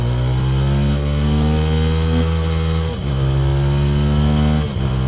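Motorcycle engine on the Nürburgring Nordschleife, loud and close, droning steadily as it accelerates, with pitch climbing through the gears and two brief dips at the shifts.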